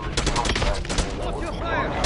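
Dense, loud gunfire in a video game: rapid overlapping shots form a continuous rattling barrage from start to finish, with some voice chatter mixed underneath.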